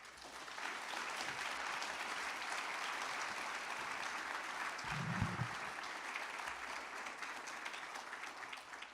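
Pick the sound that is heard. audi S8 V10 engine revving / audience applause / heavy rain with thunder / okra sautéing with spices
audience applause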